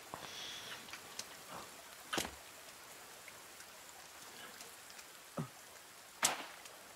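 Steady rain falls in the survival video game The Forest, a soft continuous hiss with a few sharper drop-like taps scattered through, quiet and even with no talking.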